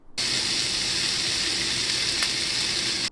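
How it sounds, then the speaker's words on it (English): Onions and bell peppers hit hot olive oil in a skillet and sizzle loudly and steadily, a dense, even hiss that starts abruptly and holds without pause, close up with no talking. "Add those onions and bell peppers and get that nice sizzle going."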